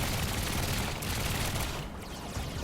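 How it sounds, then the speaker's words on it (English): Defensive guns on a heavily armed aircraft fire in rapid, continuous bursts in the building game Trailmakers, a dense crackling barrage that dips briefly near the end. "you gotta be careful when firing the defensive guns"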